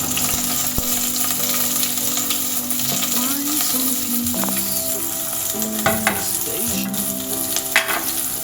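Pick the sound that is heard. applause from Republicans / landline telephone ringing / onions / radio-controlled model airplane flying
onions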